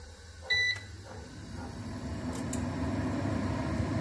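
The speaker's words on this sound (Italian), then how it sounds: "adesso accendiamo a 180 gradi per 8 minuti" A countertop air fryer set to 180 degrees for eight minutes gives a short beep as it is switched on, then settles into a steady, close fan-and-heater hum that continues alone.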